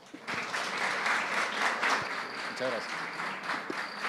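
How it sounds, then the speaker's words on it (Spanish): An audience at a conference on digital transformation and machine vision in the navy applauds its two guests, clapping swelling in after a brief pause and holding steady at moderate loudness, with faint voices mixed in. "les pido por favor un aplauso para nuestros dos invitados."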